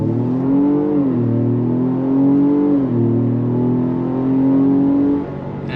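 A 2025 Ford Explorer ST SUV with 400 horsepower accelerates hard at full throttle. Its loud engine note climbs steadily, with two brief dips at the gear shifts, then eases off at the end.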